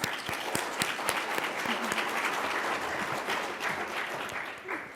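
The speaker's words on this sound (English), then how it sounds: "let's give them a round of applause" A seated audience at a talk about patients and caregivers gives a sustained round of applause, full and even throughout.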